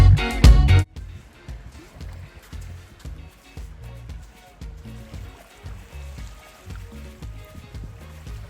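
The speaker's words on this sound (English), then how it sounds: "Something mesmerising about the waves and the sea, that lapping in and out" Calm sea waves lapping on a shore in northern Spain, a loud splash at the start, then soft rhythmic wash and trickle rising and falling gently, heard up close.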